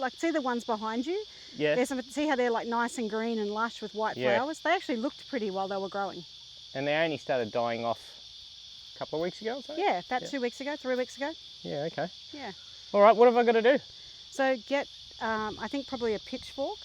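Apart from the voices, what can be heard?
chorus of cicadas in the background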